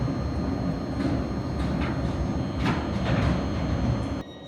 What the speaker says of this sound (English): we're going to film this class 717 out of Moorgate right now